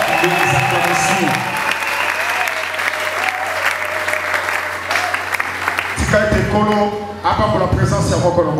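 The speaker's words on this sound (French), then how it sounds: "acclamations." A congregation at a Christian worship gathering breaks into sustained applause and cheering, a dense, loud wash of clapping with voices mixed in, briefly dipping before surging again.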